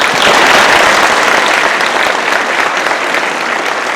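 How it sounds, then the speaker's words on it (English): Sustained, dense applause from a large audience at a birthday celebration gala for the Botham Jean Foundation, loud and steady throughout with no speech over it. "Let's give him a round of applause."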